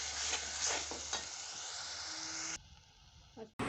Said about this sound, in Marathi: वाटून घेतलेलं हिरवं वाटण हे सगळं टाकून घ्यायचं आणि मस्त तेल सुटेपर्यंत आपल्याला हे परतून घ्यायचं